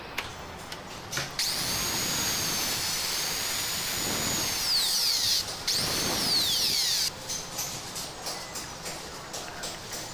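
An electric drill whines loudly and steadily while a Europa 8013 door lock is fitted to a door, its pitch bending as the bit bites, with brief pauses and clicks around the runs.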